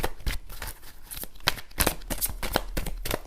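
Tarot cards are shuffled and drawn close up, a dense run of quick papery riffles and snaps with sharper slaps spaced through it, and no talking.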